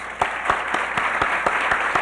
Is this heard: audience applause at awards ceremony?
yes